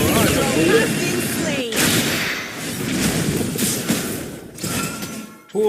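Dense barrage of gunfire and explosive thuds in a team-fight shooter video game, a sustained loud rattle of shots and booms with brief lulls, under a voice talking over the top.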